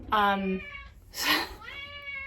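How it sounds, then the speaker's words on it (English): A cat meows twice nearby, a drawn-out call followed by a breathy one, then a shorter meow, with no talking. "my cat meowing"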